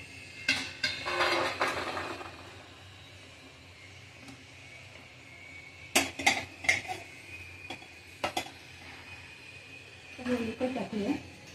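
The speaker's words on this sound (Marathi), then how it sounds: "तळून झाले काजू बदाम पिस्ते तरी ताटात काढून घेऊया." Fried cashews, almonds and pistachios are transferred onto a metal plate, giving a few sharp metallic clinks and scrapes against a quiet kitchen background, with someone speaking between them.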